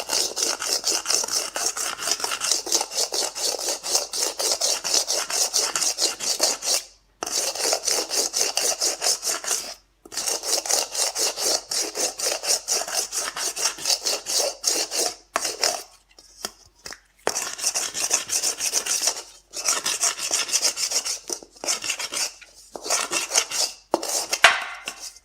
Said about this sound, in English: I've got a 80 grit sandpaper on a sanding block here.